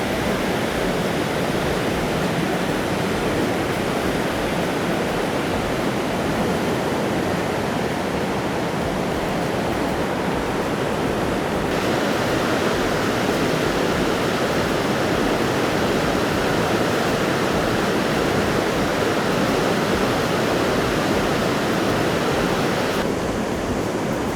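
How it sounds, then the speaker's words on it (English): Niagara River white water roaring past up close, a loud, continuous broadband rush like a waterfall that stays steady throughout with no voices. "You're really up close to the river here."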